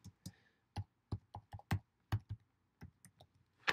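Computer keyboard typing while entering figures into an Excel spreadsheet: about a dozen crisp, close keystrokes in irregular bursts against a quiet background.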